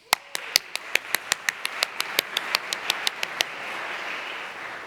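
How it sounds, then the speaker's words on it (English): A crowd at a justice rally claps in a steady rhythm of about fifteen sharp, fairly close strikes. The beat falls away into a soft room murmur. "We applaud that now"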